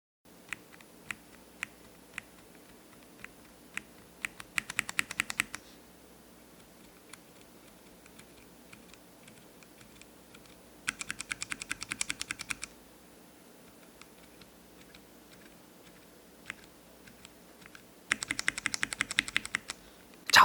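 Cherry MX tactile switches (brown, clear and grey) pressed in turn on a keyboard: three dense, close bursts of rapid scratchy keystrokes, separated by quieter stretches with scattered single taps.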